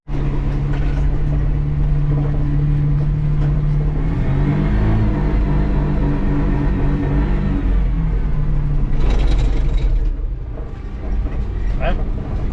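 A 1993 Hijet S83P mini truck in two-wheel drive drives along with its small engine droning loud and steady, and the pitch climbs and shifts as it revs partway through, with a brief rattling burst near the end.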